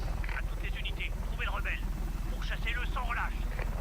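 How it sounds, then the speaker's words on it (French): Small helicopter in the video game Just Cause 3, a steady rotor and engine drone running throughout while someone talks over it. "Ok, donc ça c'est un petit hélico."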